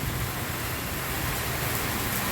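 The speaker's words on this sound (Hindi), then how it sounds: "ये इतनी तेज़ बारिश आने लग रही है" Heavy rain pours down outdoors, a dense, steady broadband hiss that stays loud and unbroken throughout, with no voices.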